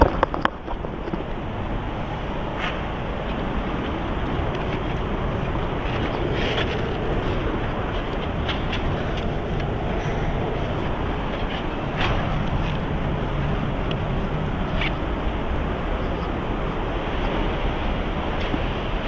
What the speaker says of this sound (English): I just use my air blower, blows up leaves and that.